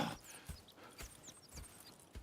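Horses clip-clop at a steady walking pace in Red Dead Redemption 2, with sharp hoof knocks in a regular rhythm, fairly close and quiet, alongside faint ambient chirps and no talking.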